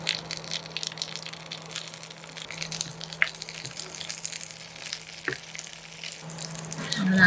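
Curry leaves and green chillies frying in hot sesame oil for a Tamil prawn fry: a steady close crackling sizzle with scattered small pops throughout, no talking.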